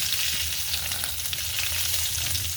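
Pork pieces fry in hot oil in a pan, a dense, continuous sizzle and crackle with a low bubbling undertone, close up and without speech.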